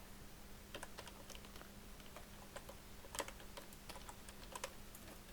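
Rapid typing on a computer keyboard while writing text into a document, a steady run of close, crisp key clicks with a few louder strokes over faint background hum.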